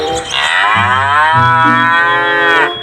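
A cow gives a single long, loud, low moo that rises and holds for over two seconds, close up and alone.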